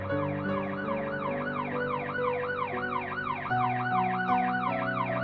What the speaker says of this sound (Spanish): Oír el gemido de las sirenas de un coche de policía que pasaba